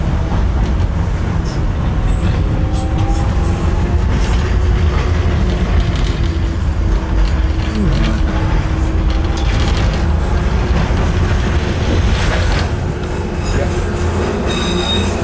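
A Docklands Light Railway train in London hums and rumbles steadily from inside the carriage, loud and continuous, with wheel squeal rising and falling along the track and no talking.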